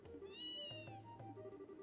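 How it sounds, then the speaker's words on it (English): A cat in the Trails in the Sky SC video game gives a quick pair of soft meows, the first longer and wavering, heard faintly over quiet background music. "it's always good to see my favorite kitty"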